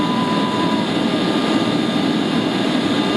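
Aircraft engine roar during takeoff from a runway at SFO, a loud steady broadband rush with a faint tonal whine throughout, no talking.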